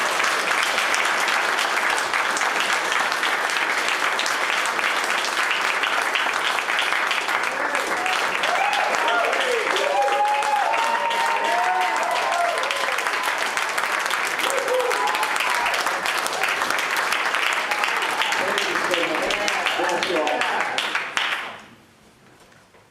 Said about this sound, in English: So Dave and Christy, give them a round of applause.